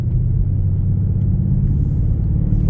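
A Mercedes-Benz GLS 63 AMG 4MATIC on a test drive, heard from inside the cabin as a steady, loud low rumble of engine and road noise, with no voices.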